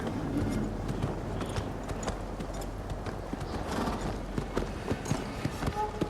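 Horse hooves clip-clopping in the video game Ghost of Tsushima, set on the island of Tsushima, Japan, a steady close trot over a dense bed of game music and ambience, with a brief whinny-like sound amid the busy mix.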